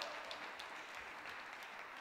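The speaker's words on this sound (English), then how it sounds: "A massive round of applause for Lana." A talent-show audience at a charity event gives a short burst of steady, dense clapping heard alone, without voices.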